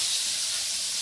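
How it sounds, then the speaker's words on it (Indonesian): Chilli, shallots and garlic sauté in a pan for beef tongseng, giving a brief, dense, close hiss of frying with no talk over it. "jadi cabai, bawang merah, bawang putih ditumis."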